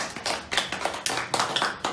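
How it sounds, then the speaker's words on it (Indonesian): A small group claps in quick irregular bursts, fairly close and moderately quiet, welcoming a packaging expert in a studio talk show setting. "Tepuk tangan dulu untuk Om Filsah"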